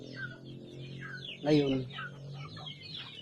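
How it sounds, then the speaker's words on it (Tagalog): Organic chickens on a small farm cluck softly in the background, with one louder, sharp cluck burst near the middle; someone speaks a single brief word. "Papakita ko sa inyo yung mga manok ko"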